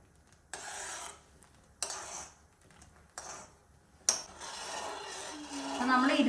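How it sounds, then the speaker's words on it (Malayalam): Iron spatula stirring in a pan, making repeated rasping scrapes in separate strokes of about a second each, close and fairly quiet, with a voice speaking over the later part. "നമ്മൾ ഇരുമ്പ് ചട്ടുകം കൊണ്ട് തന്നെ നമ്മള് ഇളക്കണം"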